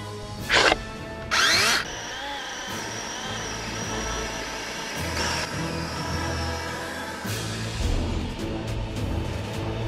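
A DeWalt 20-volt cordless chainsaw whines in short bursts as it cuts fallen ash wood, with steady motor noise between the sharper cuts.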